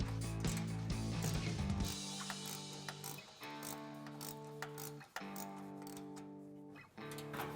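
A 13 mm socket ratchet working an exhaust ball clamp on a Jeep Gladiator JT, heard as close, quick metallic clicking in bursts separated by short pauses.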